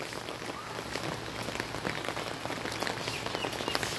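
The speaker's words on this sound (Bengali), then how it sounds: "এই যে গামলিতে জল পড়েছে, ওই টবের গোড়ায় এই বৃষ্টির জলগুলো পড়ছে না" Rain falls steadily on a rainy day, with rainwater dripping into a basin near a flowerpot: a dense, close hiss of drops on a hard surface that builds slightly over a few seconds, with no voices.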